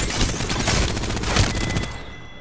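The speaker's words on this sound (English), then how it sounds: "Shots fired and they're hitting me." Rapid, loud bursts of automatic gunfire rattle almost continuously in a battle royale video game, dense and close at first before thinning and fading toward the end.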